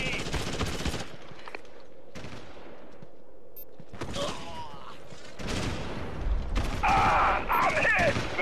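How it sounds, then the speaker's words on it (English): A battle in Ghost Recon: Advanced Warfighter brings heavy RPG and gunfire: bursts of automatic shots and explosive blasts interleaved with mechanical clatter, under radio-style voices, building louder toward the end. "we are taking heavy RPG fire"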